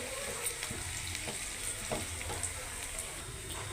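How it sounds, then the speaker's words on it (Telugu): Moong dal, cumin, mustard seeds and peanuts fry in hot oil, a soft continuous sizzle with faint popping crackles, steady and fairly quiet. "పెసరపప్పు, జీలకర్ర, ఆవాలు, కొన్ని పల్లీలు ఇవి వేగనిద్దాం"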